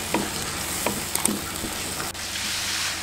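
Bay leaves, lime leaves, lemongrass and bruised galangal fry in hot oil, giving a steady close sizzle with a few scraping stirs of a utensil.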